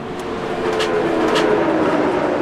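NASCAR stock cars wreck on the track during a 2015 race, a roaring, rumbling wash of engine and crowd noise with a few brief sharp bursts standing out near the middle.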